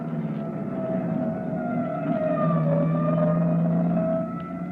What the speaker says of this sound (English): That siren is clearing the way for us.